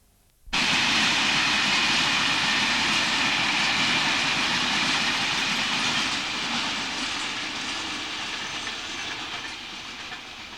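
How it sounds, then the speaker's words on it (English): A train, 6M17, runs through a short tunnel on the line near Chapel-en-le-Frith. A loud, steady rumbling roar starts abruptly and holds, then slowly fades as it moves away. No one speaks. "Now into the short tunnel, train"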